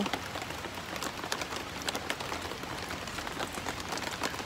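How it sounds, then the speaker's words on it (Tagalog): Light drizzle patters softly and evenly, a fine steady sprinkle of small drops with no voices, falling in freezing cold weather. "Pero umaambon pa rin."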